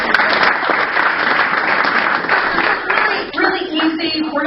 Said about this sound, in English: Round of applause for Roger.